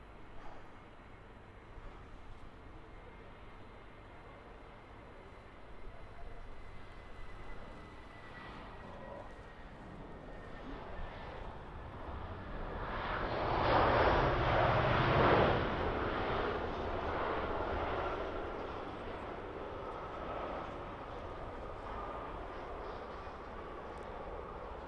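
A Lufthansa aircraft arriving from Frankfurt at Birmingham Airport, heard as a faint distant jet rumble that swells to a peak midway and then slowly fades, with no talk over it.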